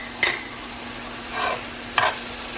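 Cauliflower rice cooks in a pan after a splash of beef broth goes in, with three distinct scraping stirs over a quiet, steady simmering hiss and a faint low hum.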